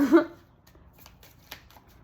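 Tarot cards being shuffled close by, opening with a brief loud riffle burst, then fading into soft, scattered card slides and flicks with a sharper snap near the end.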